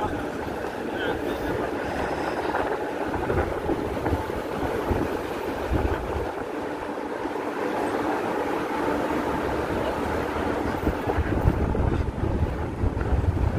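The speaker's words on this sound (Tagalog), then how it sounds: "Malakas ang hangin." Strong wind buffets the microphone in a steady low rumble, with a faint voice talking underneath and a sense of open, moving water.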